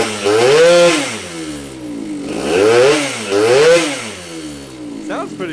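A Derbi GP1 scooter with a Piaggio engine and a new 19mm Polini carb revs up and down in repeated rising and falling sweeps, loud and close, with a faint voice near the end.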